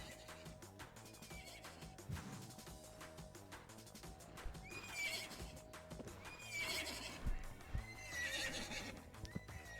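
Horses whinny and neigh several times over steady clip-clopping hooves in a horse plinko video game, with the calls growing louder and more frequent toward the end.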